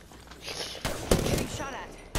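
Bursts of automatic gunfire in an Apex Legends match, a few sharp volleys close by with some faint game noise between them.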